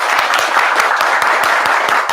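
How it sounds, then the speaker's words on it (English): A room audience claps loudly on request, giving a dense, even burst of many hands with a few sharper claps standing out. "I want everybody to clap really loud."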